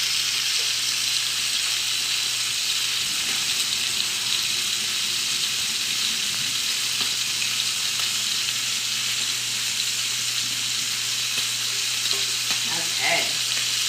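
Tomatoes, basil and parsley bubble and sizzle steadily in a hot pan, a constant dense frying hiss throughout with faint clinks and stirring touches near the end.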